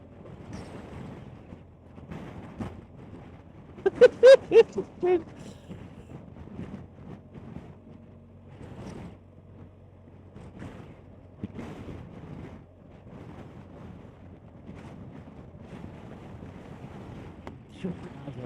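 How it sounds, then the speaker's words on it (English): Wind gusting across a microphone during a two-up motorcycle tour on a BMW R1250 GSA near a coastal caravan park, a low rumbling buffet that rises and falls, with a person talking through much of it. "All that wind's blowing in. Probably not be able to hear what I'm saying."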